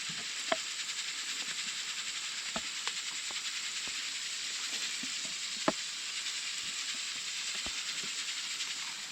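Havarti cheese melting on a beef dip sandwich in a pan over a camp stove: a soft, steady sizzle and hiss runs throughout, with scattered small clicks and pops, no voices.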